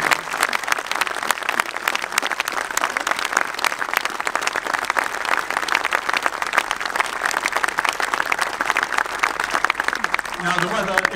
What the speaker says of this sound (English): please give the musicians a round of applause